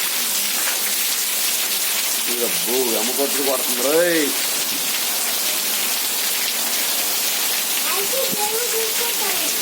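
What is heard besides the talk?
heavy rain falling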